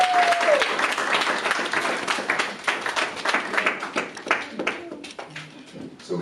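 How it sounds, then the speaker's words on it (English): An indoor audience at a women's mental health awareness event breaks into sustained applause, dense clapping that runs the whole stretch and slowly thins toward the end, with a voice speaking over it. "please give a round of applause to my grandmother"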